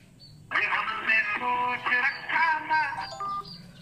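A song plays as the caller tune on a phone ringing during a call placed from a second phone, loud and steady with melodic music carried throughout, no talking over it.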